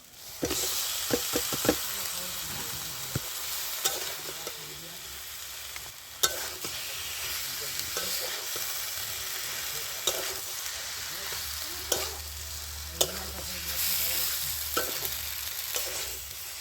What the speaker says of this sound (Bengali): এবার আমি সেদ্ধ করে রাখা কলা আর আলুটা দিয়ে দিচ্ছি